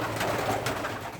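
Female pigeons coo softly while feeding in a loft, a brief low murmuring under a faint busy background.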